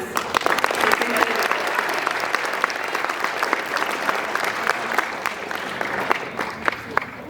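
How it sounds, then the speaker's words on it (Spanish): Sustained warm applause from an audience at an anniversary lecture honoring a teacher, dense steady clapping with sharper individual claps standing out, unbroken for several seconds. "También pido un caluroso aplauso, por favor, para el maestro José Fernando Palma Morales"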